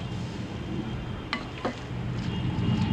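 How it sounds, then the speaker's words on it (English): A spoon stirs soya chunk masala with tomatoes in a pan over the flame, giving a steady low sizzle and scraping rustle with a couple of brief utensil clinks against the pan, close and continuous. "Just slowly keep on mixing it till everything gets combined."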